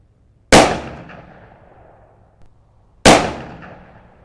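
Two loud, sharp gunshots fired outdoors at a bullseye target 50 yards away, spaced about two and a half seconds apart, each cracking sharply and then ringing off in a long echoing decay.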